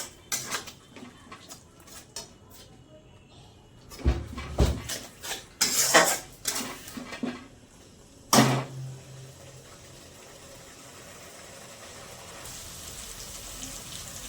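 Masala with Kashmiri chili powder is stirred and fried in a pan, with a spoon scraping and clinking against the metal in irregular bursts over a faint background sizzle.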